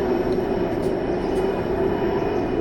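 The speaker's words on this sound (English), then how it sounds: "Chopper is disturbing us." A helicopter flying overhead sends a loud, steady rotor and engine drone that fills the whole stretch, with no talk over it.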